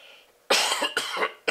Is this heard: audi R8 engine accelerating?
no